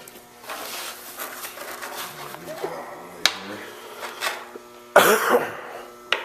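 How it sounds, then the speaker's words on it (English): Someone in a garage, working on a BMW 330i strut tower, gives a few close, rough coughs and throat clears scattered between quiet handling noises. "I'm sick of coughing"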